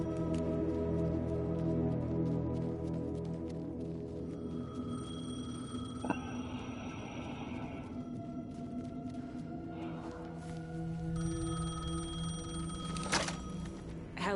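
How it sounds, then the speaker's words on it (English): Payphone in Alan Wake 2 ringing in repeated electronic bursts, sharp and fairly close, set against a dense, droning ambient game backdrop with steady low tones. "The payphone was ringing."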